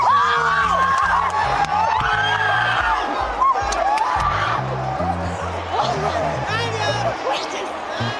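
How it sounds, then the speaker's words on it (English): A crowd in the stands at the Belmont Stakes horse race cheers, screams and whoops loudly and continuously. A trainer's excited shouts rise above the roar. "What you're hearing is Antonucci's reaction from the stands as her trainee, Arcangelo, blew past the competition in the"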